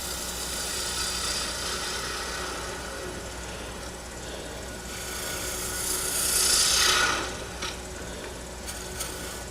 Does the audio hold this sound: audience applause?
no